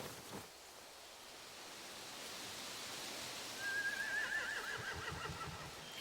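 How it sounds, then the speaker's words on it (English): A horse whinnies in a brief rising-and-falling neigh over a steady wash of wind-like background noise, moderately distant, in the video game The Walking Dead: The Final Season. "They have horses."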